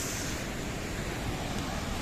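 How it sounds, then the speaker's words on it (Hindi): Fast-flowing water rushes through the wide Narmada canal as a steady, even roar of broadband noise that continues unbroken, heard from a distance and fairly faint, with no voices. "कैनाल में पानी देख रहे हो आप कितनी तेजी से जा रहा है।"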